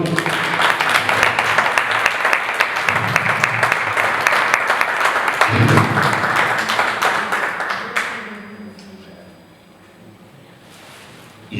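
Applause at a diabetes gastronomy day event, a dense sustained crowd clapping that ends abruptly, leaving quiet room murmur with some talk.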